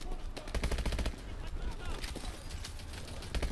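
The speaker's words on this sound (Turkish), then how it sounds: "Turret almış sıkıyor herkese" Rapid bursts of enemy turret gunfire in Call of Duty: Advanced Warfare rattle in dense repeated volleys, loud and close, with someone talking over parts of it.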